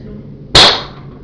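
A single sharp, loud crack from an airsoft L96 sniper rifle, close by, with a brief fading tail over low background noise.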